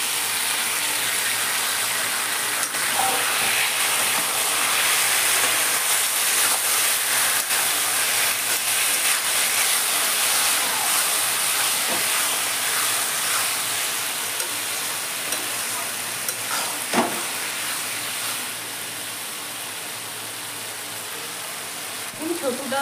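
Pre-fried wild mushrooms, potatoes and spices sizzle in a pan for a mushroom curry, giving a steady, continuous hiss with occasional soft stirring clicks.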